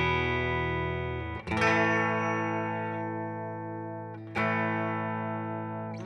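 Clean tone from a Nash T57 Telecaster played through a Morgen RCA 35 amp, with two strummed chords about three seconds apart, each ringing out and sustaining with bright harmonics, heard alone.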